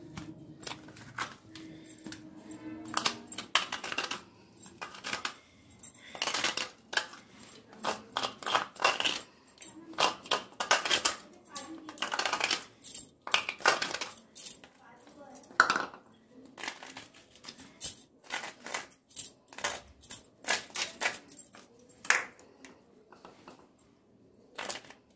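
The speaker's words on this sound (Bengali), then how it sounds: "এইগুলোকে আমি কয়েদ বেলের ভেতর থেকে যে শাঁসগুলো আছে সেগুলোকে আমি বার করে নেবো।" A spoon scrapes and clinks against hard wood apple (kothbel) shells and a bowl while the pulp is scooped out for pickle. Close, irregular bursts of knocking and scraping repeat steadily with short pauses between them.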